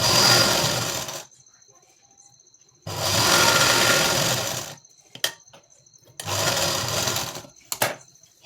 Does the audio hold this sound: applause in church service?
no